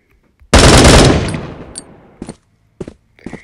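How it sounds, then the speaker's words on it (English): A loud, close burst of video game gunfire rings out and decays over about a second, followed by three shorter, fainter shots spaced out afterward, with no talking. "Can't believe they can't hear my gunshot."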